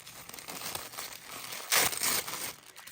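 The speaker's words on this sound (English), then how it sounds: "let me unwrap this" A package of Sonia G makeup brushes is torn open, giving close, crinkly rustles of plastic and paper wrapping that build to a louder tearing crunch near the end.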